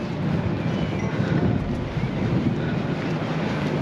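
Steady wind buffets the microphone outdoors in a port town in Bergen, Norway, a continuous rough roar with no pauses and no voices.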